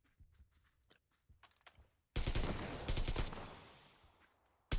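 Loud, sustained burst of rapid gunfire in PUBG shooting out a vehicle's tires, erupting suddenly after quiet footsteps and light movement, then rattling continuously to the end.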